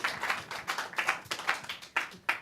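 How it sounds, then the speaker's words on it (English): Sparse, scattered clapping from a small audience at an academic conference panel on animal consciousness, a few uneven hand claps close by that thin out quickly. "that warm round of applause"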